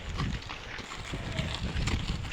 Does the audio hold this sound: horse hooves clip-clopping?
yes